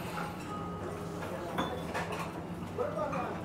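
Chopsticks or a spoon stir thin, firm Ichiran ramen noodles in a bowl at a restaurant in Fukuoka, making soft clinks and scrapes against the bowl over a steady murmur of room noise.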